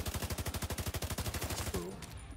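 Rapid automatic gunfire from The Division 2 rattles in a fast, even burst of about twenty-five shots, loud and close, then stops, leaving a short tonal game sound and a quiet tail.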